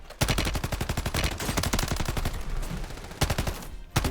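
Rapid bursts of automatic gunfire in Call of Duty Warzone, sharp repeated shots firing in quick rhythmic strings with short pauses, loud and close, ending in a final single shot.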